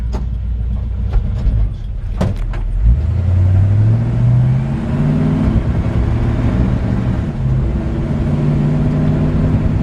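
A 1957 Chevrolet 3200 pickup with its original 283 V8, fitted with a 4-barrel intake and Holley 4-barrel carburetor, pulls away and accelerates through rising engine revs, a loud steady drone heard up close without talk.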